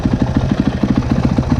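A Yamaha YZ250F dirt bike's single-cylinder engine, kick-started, idles steadily close by, its rapid even putter loud and unbroken throughout.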